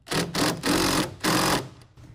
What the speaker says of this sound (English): We're going to want to tighten down this bolt, tighten the clamp.